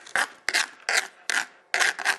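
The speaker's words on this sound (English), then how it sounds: "What I do is I just scrape the board all towards the" Salad scraps scraped across a cutting board: five short, rasping strokes in a steady rhythm with brief pauses between, close and fairly loud, no talking.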